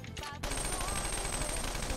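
A rapid burst of gunfire from a battle attack in the video game Persona 5 Royal erupts after a brief lead-in and rattles on densely under the game's sound.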